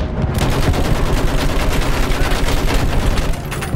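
Dense, loud, continuous machine gun fire in the Battlefield 5 video game, a relentless rattle of rapid shots with no pauses and no voices.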